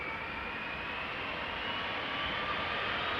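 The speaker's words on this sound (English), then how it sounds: "Sounds like it's spooling up right away." A jet airliner's engines spool up for takeoff at Amsterdam Schiphol Airport, a steady broadband roar with a faint rising whine, heard from a distance without pauses or talking.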